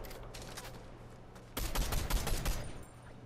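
Rapid bursts of video game gunfire in a solo battle royale match, a steady stream of shots that grows louder and denser midway before easing off, with no talking.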